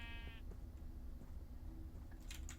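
A pink sheep in a video game lets out one brief bleat at the very start, quiet over a low background hum that carries on afterward.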